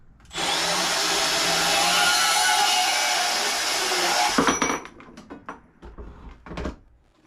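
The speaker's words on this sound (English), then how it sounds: "Using the bandsaw to cut the conduit makes life a lot easier." A bandsaw cuts through metal electrical conduit with a loud, steady whining roar for about four seconds, then winds down into scattered clanks and handling noises.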